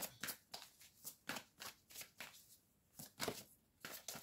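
Tarot cards drawn and laid onto a table, a series of quick, soft slapping and sliding card sounds in an uneven rhythm, close and quiet with no speech.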